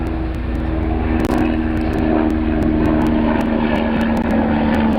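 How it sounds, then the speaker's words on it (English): A police helicopter passes overhead with a loud, continuous droning rotor hum and a steady pulsing beat across the whole stretch, close and unbroken, with no talk over it. "It's like a police helicopter, I think."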